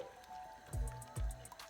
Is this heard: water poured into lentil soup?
yes